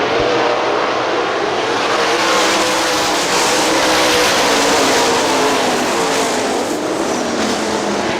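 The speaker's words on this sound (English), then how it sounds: "Back to the green flag racing we go out of turn 4." Sprint race cars at Hartford Speedway Park charge back to green flag racing out of turn 4, a loud, continuous roar of several engines with surges as cars pass nearby.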